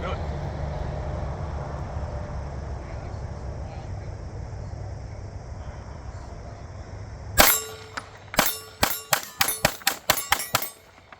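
An Oracle Arms 2311 pistol fires ten rounds in a rapid string, sharp loud cracks after a stretch of outdoor wind and low rumble.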